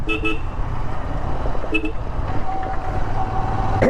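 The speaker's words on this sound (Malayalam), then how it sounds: "ഹോൺ കാര്യങ്ങളൊന്നും മാറിയിട്ടില്ല, നല്ല ഒരു എനർജി തരുന്ന ഹോൺ തന്നെയാണ്" Several short horn toots from a Royal Enfield GT 650 motorcycle sound in quick bursts, loud and close, over a steady engine idle.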